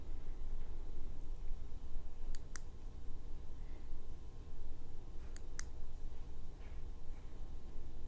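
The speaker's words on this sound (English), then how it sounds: "So again, we're going to double click to get the next one." Two pairs of sharp button clicks from a Boruit EV10 keychain flashlight, each quick double-click separated by a pause of about three seconds, heard close over a steady low background hum.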